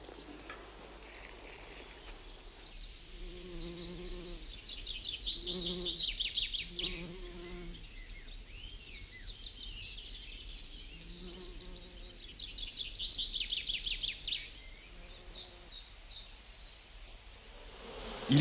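Honeybees buzzing around a garden beehive, heard as a steady faint hum broken by several louder, close buzzing swells as bees pass near, with one strong surge midway and another toward the end.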